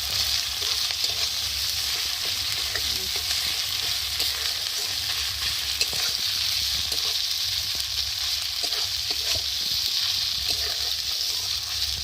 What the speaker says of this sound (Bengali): তো দেখো ফোড়নটা ভালোভাবে ভাজা হয়ে গেছে, আর আদা জিরের গন্ধটা বেশ চলে গেছে তেল থেকে।